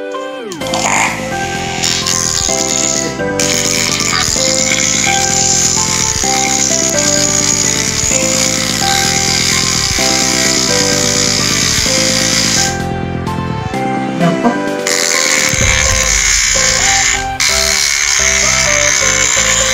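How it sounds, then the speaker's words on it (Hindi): A homemade hand grinding machine spins with a loud, close motor whine that wavers in pitch, dips briefly twice, then resumes grinding. "तो इससे हम लोग कुछ चीज ग्राइंड करके देखते हैं।"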